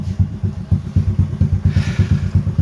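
A Honda Supra X 125 motorcycle engine idles close by in a steady, rapid pulsing chug, with a faint hiss rising briefly partway through.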